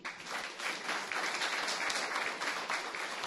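Steady, full applause from a room of people at a school district regular board meeting, honoring counselors from across the district. It is continuous and fairly loud throughout, with no clear talking.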